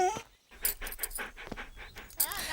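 A dog pants in quick, breathy bursts broken by high whimpers, close and fairly loud, in a scene where the dog has just bitten someone and is being soothed.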